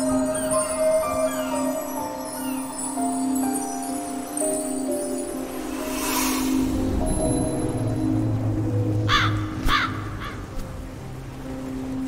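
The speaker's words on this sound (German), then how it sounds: "Vogel!" A bird calls in the Hüter der Hoffnung video game, sharp harsh cries breaking through near the end over a steady droning music bed, with no talking.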